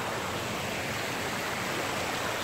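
Water pours steadily from above at a Punch Bowl waterfall, a dense, continuous rushing wash that fills the whole clip with no breaks, close and fairly loud.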